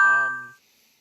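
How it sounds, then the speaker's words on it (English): A single bright phone notification chime rings once, a clear tonal ding that decays and stops within about half a second, followed by near silence. "pardon me, my phone's going off"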